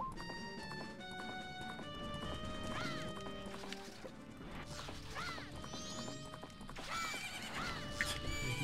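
Horse whinnying and galloping in the Zelda game Majora's Mask on GameCube, repeated neighs over rapid clip-clop hooves and crashing impacts, layered with busy game sound effects.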